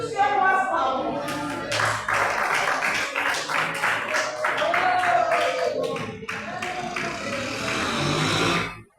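Church congregation clapping hands in praise during a worship service, a steady dense patter of applause running throughout alongside voices, singing or talk, loud and close.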